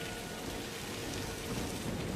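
Steady, dense rain pours down in a film scene, a continuous hiss of drops with no pauses, fairly soft and even throughout, with no voices.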